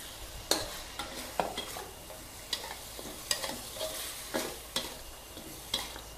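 Pork ribs stir-fried in a pan with curry paste, galangal, chilies and torn kaffir lime leaves, with wet sizzling and a steady rhythm of sharp spatula scrapes and stirring strokes, close and alone.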